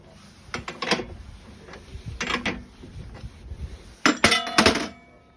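A nut is worked off the front driveshaft of a Tata 613 truck, with clustered metallic clicks and ratcheting clatters in uneven bursts, close-up, separated by quieter shuffling.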